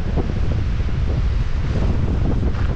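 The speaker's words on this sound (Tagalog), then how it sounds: "Lakas ng hangin" Strong wind buffeting the microphone on an open, windy coastal stretch of Ilocos Norte near large windmills, a loud, constant roaring rush with no break.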